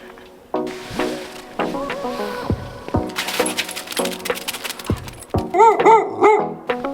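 A village dog in a wintry Greek mountain village barks in a series of short, irregular yaps up close, mixed with a few faint clinks and a brief higher whine near the end.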